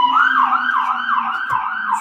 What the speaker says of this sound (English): I guess the siren is like, yeah, watch out for that.